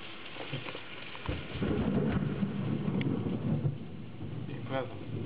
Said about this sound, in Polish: Podoba mi się ten grzmot.